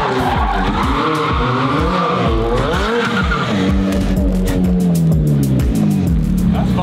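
A 2020 McLaren 720S Spider supercar with a full aftermarket exhaust revs loudly and close, its engine note rising and falling in sweeping surges with a sharp, raspy edge throughout.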